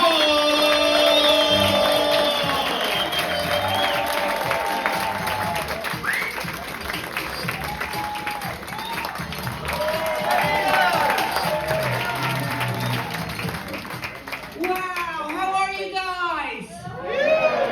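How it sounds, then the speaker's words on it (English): A comedy-club audience claps and cheers steadily for a comedian, a dense wash of applause with whoops that lasts throughout, while a host's voice talks over it near the end. "Keep the applause going for Maria Wall!"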